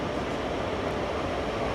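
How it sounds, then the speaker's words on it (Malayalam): A WAP-4 electric locomotive, number 22712, hauling a train toward the listener on the adjacent track at night. A steady, continuous rail rumble with a broad wash of noise, and no voices. "അപ്പുറത്തുനിന്ന് ഏതോ ഒരു ട്രെയിൻ കയറി വരുന്നുണ്ട്."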